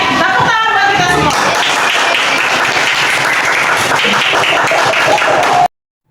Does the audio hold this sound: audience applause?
yes